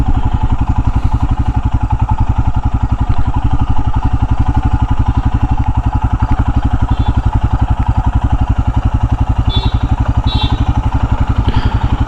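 Royal Enfield Himalayan motorcycle engine running steadily with a close, even single-cylinder thump as the rider eases off to the roadside, loud and continuous throughout.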